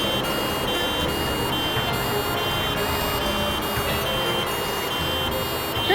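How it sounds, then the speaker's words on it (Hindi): Ambulance sirens blare continuously and loudly, a steady electronic wail with repeating tonal pulses filling the whole stretch, with no voices over it. "सर 3 एम्बुलेंसेस एक साथ?"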